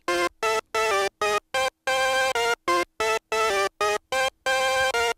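Dry synthesizer notes recorded straight from a Behringer Matriarch audio output, played in short staccato bursts with gaps between, bright and buzzy with rich overtones, no effects applied.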